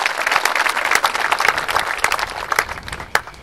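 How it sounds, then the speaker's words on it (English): An audience at a college graduation commencement speech breaks into applause, a short burst of dense clapping from many people, close and fairly loud, fading slightly toward the end. "That's an applause line, folks."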